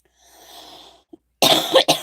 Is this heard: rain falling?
no